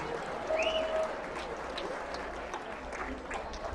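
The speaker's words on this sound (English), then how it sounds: "So give yourselves a huge round of applause for being part of this." Audience applause at a charity gala, a steady, fairly soft patter of many hands with crowd murmur mixed in, heard from some distance throughout.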